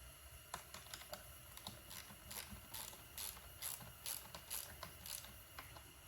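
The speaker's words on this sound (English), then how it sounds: "And this is the 7/16 wrench right here that I'm tightening with." A 7/16 wrench tightens a solenoid while a lure coursing machine is assembled, giving quiet, close, irregular metallic clicks and ticks spaced through an otherwise hushed room.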